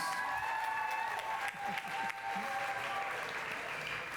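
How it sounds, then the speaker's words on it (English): Audience in a hall at a final ceremony applauding steadily, dense clapping filling the room throughout at moderate distance, without pause. "Can I get a round of applause for those guys"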